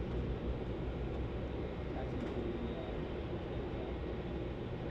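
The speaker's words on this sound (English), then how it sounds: "There you go, taxiing to the to its gate now." Steady broadband jet rumble from an aircraft taxiing to its gate at Melbourne Airport, a continuous distant roar with no break across the stretch.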